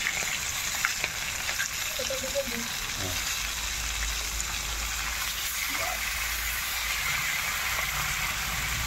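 Small sarputi fish sizzle and spatter in hot oil in a home kitchen, a constant loud crackling hiss with occasional stirring clinks, while people talk faintly in the background.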